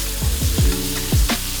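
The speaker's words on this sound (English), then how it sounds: "add in your beef and really spread it around, but don't touch it, let it sear" Beef for a quick wok Bolognese hits hot oil and sears loudly. Several sharp sizzling bursts land in a ragged rhythm over a steady crackling frying bed, close and prominent with no talk.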